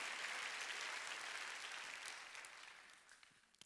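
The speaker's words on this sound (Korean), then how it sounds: "박수로 하나님께 영광을 드려요." Applause from a church congregation at a Sunday worship service fills the space, a dense wash of clapping from many hands that slowly fades out over a few seconds.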